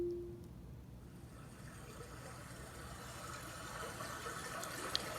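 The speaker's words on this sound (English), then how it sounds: "Babbling brook." A babbling brook plays as an ambient soundscape, a steady low water rush and trickle that stays moderately quiet and constant throughout with no voices.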